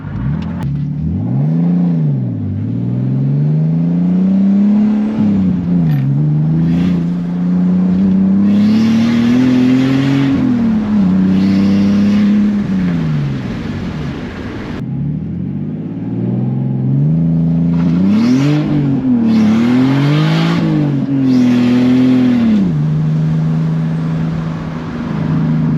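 A turbocharged BMW E46 accelerates hard through repeated loud revving pulls with rising and falling engine pitch. Brief gaps fall between gear changes and bursts of throttle. The car is close, and no voices are heard.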